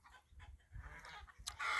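Hens and roosters clucking and squawking in short bursts, with a louder flurry of agitated calls near the end.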